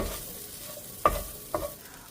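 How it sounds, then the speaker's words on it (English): Diced potatoes sautéing in a pan, a soft close sizzle with two distinct stirring scrapes about half a second apart, short and with no talk. "Just continue to saute."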